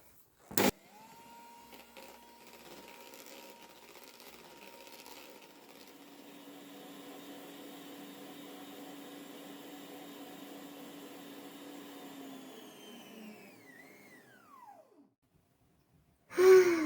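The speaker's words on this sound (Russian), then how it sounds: "Взбиваю примерно 5 минут." Electric hand mixer whipping six eggs for a Christmas cake batter, a steady motor whine that shifts in pitch as the beaters work, then winds down and stops, followed by a clatter.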